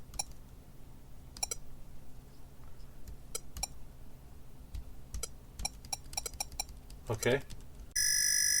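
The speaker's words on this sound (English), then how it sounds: "I do hear sound effects coming through the speaker when I press a key." Key presses on a ZX Spectrum Next send game sound effects through its newly fitted internal speaker: scattered sharp clicks and short blips, a brief buzzy burst, then a steady harsh electronic beep at the end, with a voice speaking briefly.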